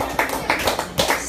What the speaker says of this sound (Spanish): brinda los aplausos que son para Cristo